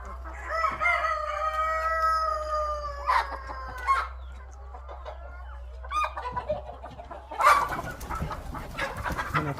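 Hens in a backyard flock of laying chickens cluck and cackle in drawn-out, rising calls, close by, with short pauses and a steady low hum underneath.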